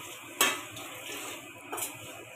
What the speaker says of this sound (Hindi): तो जल्दी जल्दी इसको भून लेते हैं अच्छे से